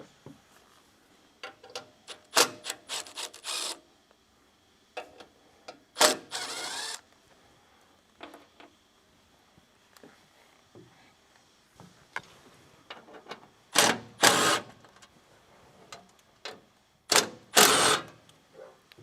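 Headed 3/8 bolts are undone from two tractor halves during assembly, with scattered clicks and ratcheting bursts of a wrench separated by quiet pauses and a few louder metallic clatters.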